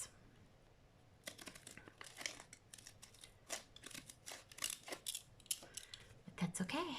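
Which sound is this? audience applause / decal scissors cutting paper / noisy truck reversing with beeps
decal scissors cutting paper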